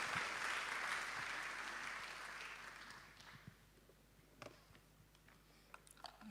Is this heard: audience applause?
yes